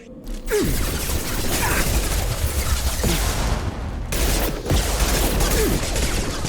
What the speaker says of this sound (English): Alright, let's bust out the pistol then.